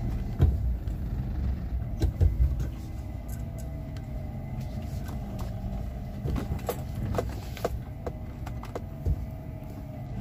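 A Hyundai Santro Xing drives in third gear with a steady, low engine and road rumble heard from inside the cabin, punctuated by scattered small clicks and knocks.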